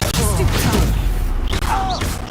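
Confringo explosive spell cast in the Hogwarts Legacy video game: loud game combat with booming blasts, whooshing spell effects and a rising magical whistle, mixed under a player's voice.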